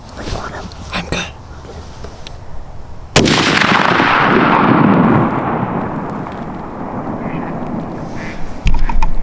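A single loud rifle shot on a mule deer hunt in Washington State, a sharp crack followed by a long rolling echo across open country, with hunters talking quietly before and after.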